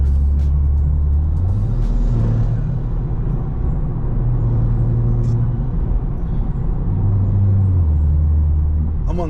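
A BMW M340i engine, in comfort mode, rumbles low and steady while driving, its pitch rising and falling with shifts in speed, heard from inside the car.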